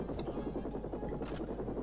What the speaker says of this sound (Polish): I helikopter spada.